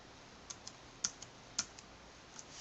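Key presses on a Bluetooth keyboard typing Control Z, a few light, sharp clicks spaced irregularly over a faint background hiss, close and quiet.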